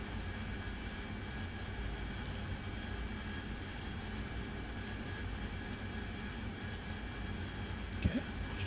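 Steady jet engine roar of a Harrier in the DCS flight simulator game, a continuous broadband drone with whining tones, ending in a couple of sharp transients near the close.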